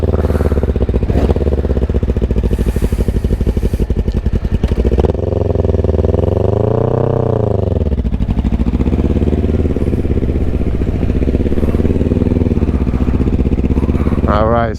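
A 2006 Kawasaki Ninja 500R motorcycle with a slipping clutch runs on the road, its engine droning steadily and rising and falling in pitch through a rev swell midway, with wind and road noise throughout.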